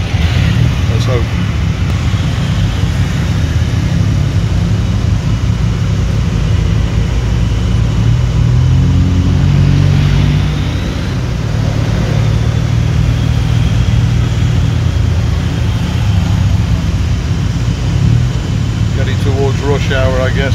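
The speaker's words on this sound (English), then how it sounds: "Traffic's very busy, so I thought the tuk-tuk is possibly the best way." A tuk-tuk engine runs steadily and loud as it threads through busy traffic, with a constant low rumble and road noise around it, and voices talking over it now and then.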